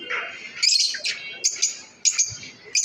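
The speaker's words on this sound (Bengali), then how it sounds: "লাভবার্ড পাখি রাখা" Shrill, rapid chirps and squawks from lovebirds close by, coming in short repeated bursts with brief pauses between them.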